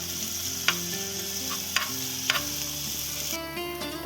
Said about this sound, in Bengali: শুকনো লঙ্কা আর রসুনটা ভালো করে এবারে বাটারের মধ্যে একটু ভেজে নেব।